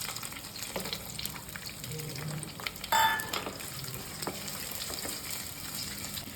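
Fenugreek seeds crackle and sizzle steadily in hot oil, with a single brief clink from a utensil partway through.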